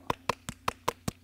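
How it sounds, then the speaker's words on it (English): Six sharp hand claps in an even, moderately quick rhythm, close and fairly quiet, from a comedian's group reaction session, with a faint steady background hum between the claps and no talking. "You gonna give me a reward? Hmm? You gonna give me a reward? A clap."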